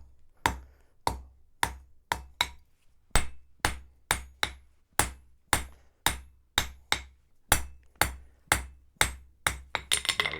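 A heritage blacksmith hammers a point onto hot metal at the Ulster Folk Museum, with a steady run of about two dozen sharp, ringing hammer blows close by, evenly paced with brief pauses and a quick flurry at the end.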